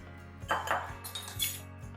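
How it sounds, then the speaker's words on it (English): Minced garlic scraped out of a jar with a utensil, giving a few short clinking scrapes of metal against glass, close and quiet, with no talk. "I am running low on minced garlic. Now, let me scrape some out."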